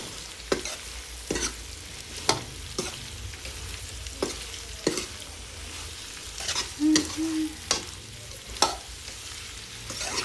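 Pumpkin pieces for sabzi stirred in a hot pan with chilli, garam masala and turmeric, a steady sizzle of frying broken by regular scraping strokes of the spoon, close and alone.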